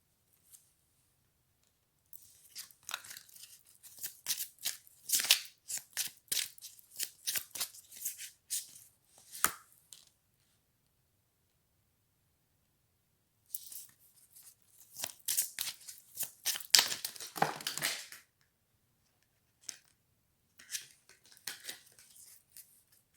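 Tarot cards are shuffled in two separate bursts of rapid riffling and flicking, crisp and close, with a quiet pause between them and no talking.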